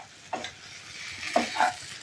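Masala spices frying in a pan for an old-style taro root curry, with a soft steady sizzle and a few scraping stirs, close and quiet.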